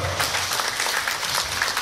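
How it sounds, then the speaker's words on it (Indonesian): A crowd at a mosque charity anniversary gathering applauds in a dense, even burst of many hands clapping, close and fairly loud throughout. "tepuk tangan dong"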